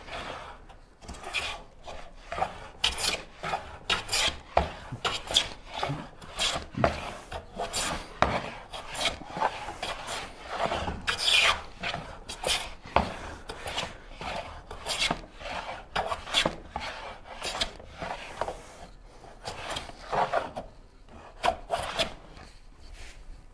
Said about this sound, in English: this is going to be kind of intermittent anyways because of what I'm planing at the moment